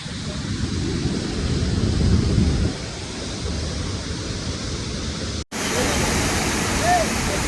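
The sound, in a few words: Kalu waterfall roaring at Malshej Ghat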